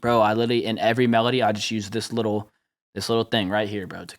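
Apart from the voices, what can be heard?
None of the usual background noises is heard.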